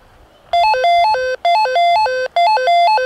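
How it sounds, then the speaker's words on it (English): Motorola T50 walkie talkie ringing the other handset, a loud close electronic melody of stepped beeping tones repeated in three short bursts. "you can ring the other handset, so watch"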